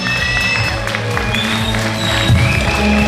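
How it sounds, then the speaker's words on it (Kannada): An audience applauds at a logo launch ceremony for the All India Mogaveera Association, a steady wash of clapping under background music and a voice. "ನೆರೆದಿರುವ ಕುಲಬಾಂಧವರು ಚಪ್ಪಾಳೆ ಮೂಲಕ ಲಾಂಛನ ಬಿಡುಗಡೆ ಸಮಾರಂಭ"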